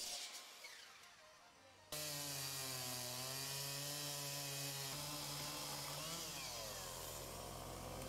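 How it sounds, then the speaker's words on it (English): A power saw starts abruptly and cuts through a wooden covering board during a boat restoration, loud and continuous with a shifting pitch, after a quieter lead-in. "The covering board is then cut out."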